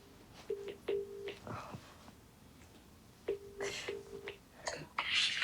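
A telephone being dialed to place a call: two bursts of short, clear dialing tones, each followed by brief rustling and faint clicks, heard up close in a quiet room.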